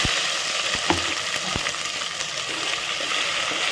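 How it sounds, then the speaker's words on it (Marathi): Continuous hiss of ground masala frying in a pan, with a few sharp clinks of a utensil against metal up close. "छान फ्राय होऊन द्यायचं वाटलेला मसाला"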